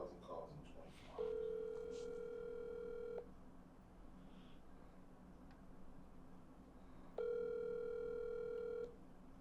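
A telephone line while dialing a helpline number: two long steady ringback tones separated by a quiet pause, with faint clicks and low background murmur before the first tone.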